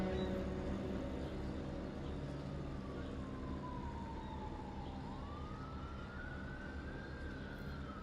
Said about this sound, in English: Little siren sound in there.